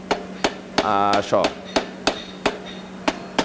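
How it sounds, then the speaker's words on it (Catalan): Hammer forging hot metal into a dragon head: a steady series of about ten loud, ringing hammer strikes on an anvil at a brisk even pace, with a brief spoken word mid-sequence. "I amb el martell intenta tancar la pasta."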